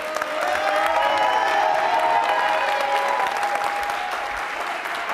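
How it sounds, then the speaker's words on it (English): Audience at a social work summit applauds steadily, with a few whistles and faint whoops over the clapping. "Audience, keep the applause going for these heroes."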